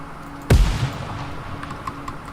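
A single heavy grenade explosion in the Ground Branch video game, a loud close boom followed by a rumbling tail and faint scattered crackles fading over two seconds.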